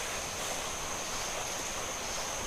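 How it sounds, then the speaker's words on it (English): Water pouring steadily off a structure, heard as a continuous broadband rushing wash with no breaks, fairly loud and close, with no talking. "Wow, there's a lot of water coming off that thing."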